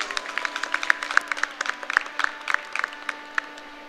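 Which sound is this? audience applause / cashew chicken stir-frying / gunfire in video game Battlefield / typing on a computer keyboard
audience applause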